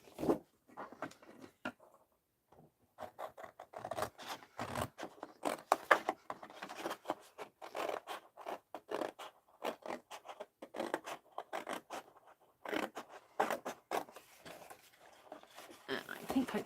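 Scissors snip through Bristol board to cut out paper dolls, with quick irregular bursts of crisp cutting and rustling paper in close, uneven clusters with brief pauses between.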